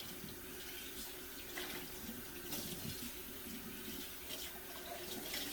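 Hot water runs steadily from a tap into a kitchen sink during dishwashing, a soft continuous splashing stream at low level with no voices.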